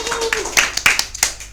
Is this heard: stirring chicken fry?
no